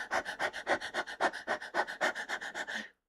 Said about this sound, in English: Puppy pant.